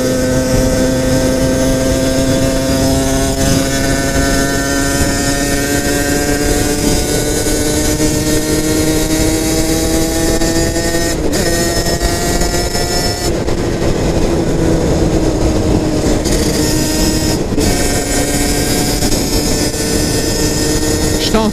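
A ridden 80cc motorcycle engine droning loud and close throughout, a constant buzzing hum with steady rising whine and wind rush, and a couple of brief shifts midway.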